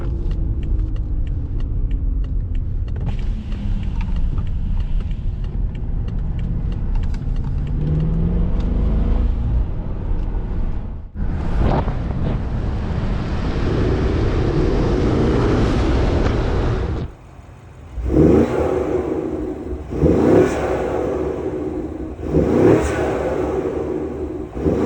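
A BMW 550i with the N63 V8 and ARM cold air intakes accelerates hard, building a deep rumbling roar with rising induction whoosh, then lifts off and pulls again through several shorter bursts, loud and close from inside the car.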